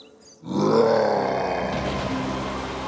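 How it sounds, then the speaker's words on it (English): A monster in a bedtime story roars, a deep loud bellow that bursts in suddenly and holds, slowly fading into a low rumble. "At that moment, a very strong roar was heard."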